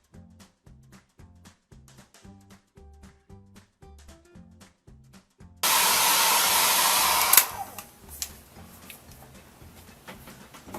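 A hair dryer blasts steadily at close range for about two seconds while drying a watercolor galaxy painting on Montval paper, then cuts off abruptly, with quieter clicking and tapping before and after.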